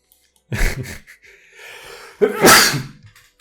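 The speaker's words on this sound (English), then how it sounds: "I'll sneeze." A single loud, close sneeze, preceded by a sharp inhaling gasp and a short breath.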